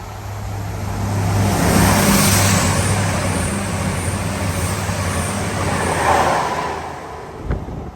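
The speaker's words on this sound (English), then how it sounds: "So this train coming in to platform 3 is the Leicester to Lincoln Central." A Leicester to Lincoln Central train in old East Midlands Trains livery pulls into platform 3 with a steady low engine drone and rumble, swelling and easing, then a short sharp hiss near the end.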